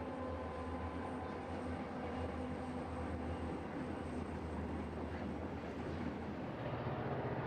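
A BNSF freight train on the Mojave desert mainline, hauled by eight EMD units at about 49 mph, gives off a steady, continuous rumble of engines and rolling cars at moderate distance with no break.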